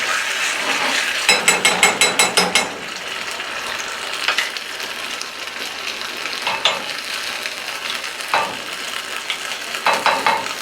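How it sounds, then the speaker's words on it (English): Gochujang-based Korean BBQ sauce being stirred with a spoon in a bowl, giving a close, wet, sticky scraping with bursts of quick rhythmic clicking strokes, alone without talk. "Stir that up a bit."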